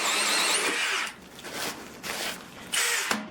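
A Milwaukee or DeWalt 12V hammer drill boring a 1¼ inch hole: a loud, close whine runs for a second, then breaks into shorter bursts separated by brief pauses, with a final surge near the end.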